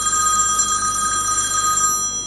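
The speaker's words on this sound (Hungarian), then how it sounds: "de nem veszünk föl a telefont" A telephone rings during a Hungarian poetry and song program, giving a steady electronic ringtone with sustained tones that last nearly the whole span and cut off near the end, with no talking over it.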